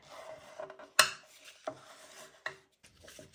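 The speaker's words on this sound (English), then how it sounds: "we're folding one edge in and the other one leaving a flap to still glue them together" Paper being creased and folded by hand into a small coin envelope, with sharp rasping rubs and crisp crackles at irregular moments amid quieter handling, close and fairly soft.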